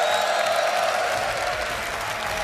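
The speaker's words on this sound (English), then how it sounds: "We've got a raucous crowd" A raucous crowd at a live Age of Empires 2 esports semifinal, the Red Bull Wololo Londinium event, claps and cheers continuously in a dense, steady roar that fills the whole stretch without a pause.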